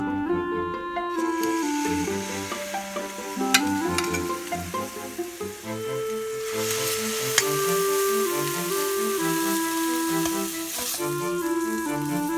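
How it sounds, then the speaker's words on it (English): Salmon sizzles steadily in hot coconut oil in a pan, a continuous crackling hiss, with background music playing throughout. "While the fish is frying,"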